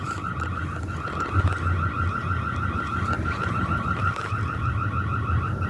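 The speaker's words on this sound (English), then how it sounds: "Are we setting off alarms?" An alarm keeps sounding inside an old printing building that has run since the 1950s, a steady electronic tone that never pauses, heard over a dull background rumble with no voices.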